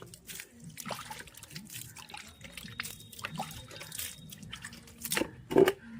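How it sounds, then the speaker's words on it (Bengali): Fungicide water poured into a potted rose planted in cinder drains out through the bottom of the pot in soft, irregular drips and trickles, quiet and close. "দেখুন নিচে দিয়ে বেরিয়ে যাবে পুরো জলটা, বুঝলেন? নিচে দিয়ে জলটা বেরোচ্ছে"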